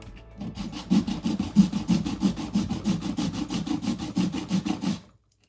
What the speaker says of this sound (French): du coup de poncer ici le bord de la semelle qui dépassait légèrement